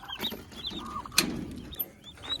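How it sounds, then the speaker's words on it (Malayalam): Young turkey chicks let out on a farm give repeated high, thin peeping calls at close range, with a short burst of scuffling and flapping midway and soft clucks in between. "നമ്മൾ ടർക്കി കോയിന് കുട്ടികൾ തുറന്നു വിടേണ്ടതുണ്ട്"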